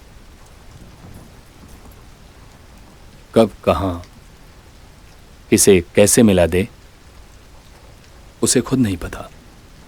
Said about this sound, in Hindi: मुंबई के बरसात का भी कोई जवाब नहीं।